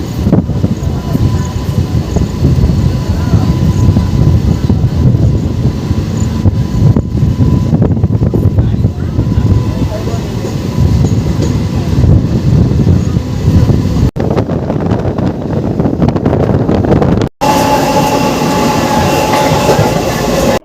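A train rolls along the rails with a loud, continuous rumble and rattling clatter, the noise shifting slightly partway through.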